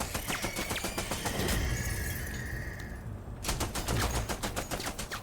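Rapid bursts of video game gunfire, dense cracking shots with glassy shattering, pausing briefly mid-clip before another loud volley resumes.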